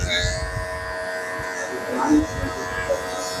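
An electric hair clipper fitted with a 1.5 guard hums steadily while cutting hair during a mushroom-style haircut, a close buzzing drone running under a voice.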